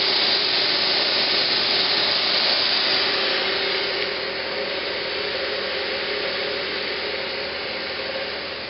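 A belt grinder grinds down a steel plunger pin, giving a steady, loud abrasive hiss that runs continuously throughout and eases slightly in level partway through.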